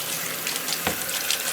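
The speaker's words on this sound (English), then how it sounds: "you want to run some cold water over it." Cold tap water runs steadily into a sink over potatoes draining in a strainer, a continuous close splashing hiss with one brief louder splash midway.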